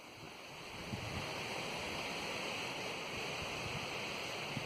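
A stream flows beside a desert picnic spot, giving a steady, dense rush of water that runs without a break. No voices are heard.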